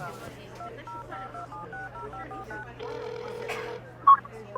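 Phone keypad dialing tones play as a quick run of short two-note beeps over a low steady hum, followed by a longer tone and a brief sharp chirp, with faint voices in the background.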